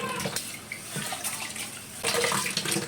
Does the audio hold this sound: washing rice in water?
yes